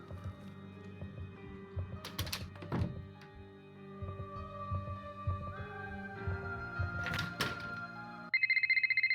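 Telephone ringing in a Nancy Drew video game, a clear electronic ring that starts near the end after soft thumps and game background tones.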